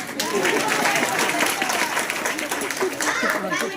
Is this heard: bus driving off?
no